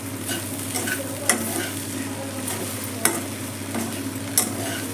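Grated coconut is mixed into okra frying in a pan: a steady sizzle broken by three distinct scraping strokes of a spoon against the metal, close and clear with no talking.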